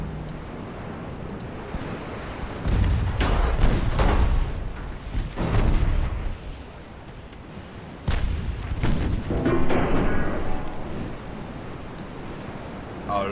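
Heavy booming naval gunfire in Ultimate Admiral: Dreadnoughts, a battle between 1890s German warships at point-blank range, rumbles in several loud, rolling bursts over a constant wash of sea and wind.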